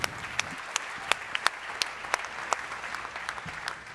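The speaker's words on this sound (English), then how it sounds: "A big round of applause for Marion Singer." Moderate applause from a startup demo day audience for presenter Marion Singer, a patter of many hands with sharper individual claps standing out, fairly soft and steady.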